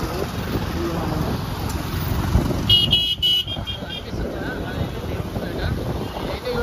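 A motorcycle taxi carries a rider through busy city traffic toward a cable bridge. A loud, steady rush of wind buffets the microphone over engine and road noise, and a short horn toot sounds midway.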